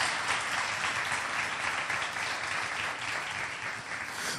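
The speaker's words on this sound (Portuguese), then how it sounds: "Vamos aplaudir ao Senhor pela vida do Tomás." Congregation applauding at a church service, a sustained, dense wash of clapping from many hands that fills the room evenly without any voices above it.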